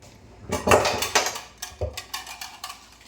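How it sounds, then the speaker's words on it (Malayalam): Pots, pans and cutlery clatter and clink in a home kitchen as dishes are washed, with a dense burst of metallic knocks followed by scattered lighter clanks, close and fairly loud. "പാത്രങ്ങളൊക്കെ നമുക്ക് കഴുകി വെക്കാം"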